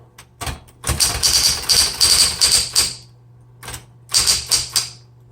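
A vintage 1960s Smith Corona Electra 110 electric typewriter is typed on in two quick bursts of sharp, close keystrokes over a steady motor hum, with a short pause between.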